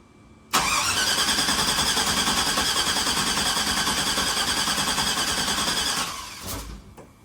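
Car engine in a Sierra after a cam swap, cranking steadily for about five and a half seconds with a rapid rhythmic churn, then stopping without catching; close and fairly loud.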